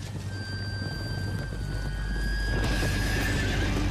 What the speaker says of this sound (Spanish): Tranquilos, son caballos.